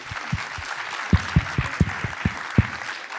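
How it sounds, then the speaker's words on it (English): An audience applauds Mel Gibson at a film screening Q&A, continuous crowd clapping with a few loud, close claps standing out in an uneven rhythm. "How about another round of applause for this guy?"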